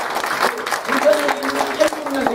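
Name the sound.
church congregation applauding a new member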